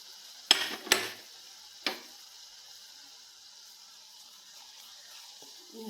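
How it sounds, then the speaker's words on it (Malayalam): A few sharp scrapes and clinks of a spoon against a pan while stirring moringa leaf thoran, then a quiet low hiss with one more faint knock near the end. "ഇളക്കി കൊടുക്കാം."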